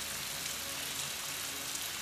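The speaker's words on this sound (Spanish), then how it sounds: "ahora estamos bajo la lluvia" Steady rain falls in Rise of the Tomb Raider, a continuous even hiss of game-world rainfall with no talk.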